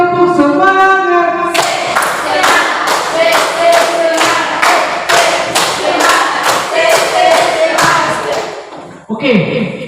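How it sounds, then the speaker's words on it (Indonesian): A school class does rhythmic 'tepuk semangat' spirit claps, with a sequence of loud, evenly spaced group claps and thumps close by. A teacher's voice leads at the start and end. "1 kali tepuk semangat, 2 kali tepuk semangat, 3 kali tepuk semangat."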